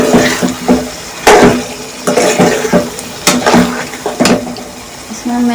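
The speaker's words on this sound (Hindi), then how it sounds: "इसके साथ ही मैं इसमें ये 4 हरी मिर्चें ऐड कर रही हूँ और अब इसके साथ ये फ्राई करूँगी।" Four green chillies frying in a pan for aloo matar curry, with repeated clinks and scrapes of stirring against the pan over a low sizzle, several sharp metallic hits standing out.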